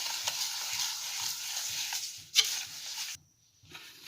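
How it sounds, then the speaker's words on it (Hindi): Eggs and sugar are mixed in a bowl for marble cake: a steady, rhythmic whisking beat, fairly soft and close, with one sharp clink before it stops near the end. "अच्छी तरह से मिक्स करेंगे।"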